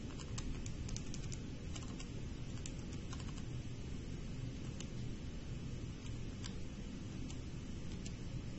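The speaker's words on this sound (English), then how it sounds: "Let's go ahead and type that in." Typing on a computer keyboard, with quick irregular clicks of keys pressed in bursts over a steady hiss of background noise, close and faint, with no talking.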